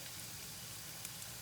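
Chicken sausage searing in a non-stick skillet, a faint steady sizzle holding evenly throughout with a couple of tiny pops, no voices over it.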